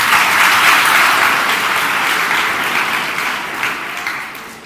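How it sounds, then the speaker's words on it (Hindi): A classroom audience of children at a school class claps together in loud, dense applause that starts strong and slowly tapers off, with no talk over it. "ताली बजाइए"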